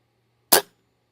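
A single sharp crack from a Macavity MA2 .22 air rifle, fired outdoors at an airgun expo; one loud, close report with a quick decay and near silence around it.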